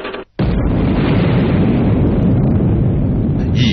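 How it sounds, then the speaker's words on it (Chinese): Chinese atomic bomb test explosion from October 1964: after a brief moment of quiet, a loud, deep, rumbling roar bursts in and sustains without letup to the end. "一声霹雳，火球腾起，随之化为巨大的蘑菇云，中国的原子弹试验 成功了"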